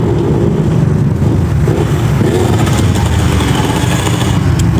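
Motorcycle engines run steadily on a street at night, a loud continuous low rumble and drone filling the whole stretch with no talk over it.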